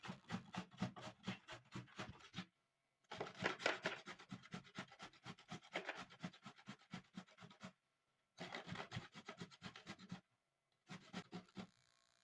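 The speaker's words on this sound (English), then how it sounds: "Pick one cassava tuber and grate carefully." Cassava tubers are rubbed against the bigger side of a kitchen grater in quick rhythmic rasping strokes, coming in bursts separated by brief pauses.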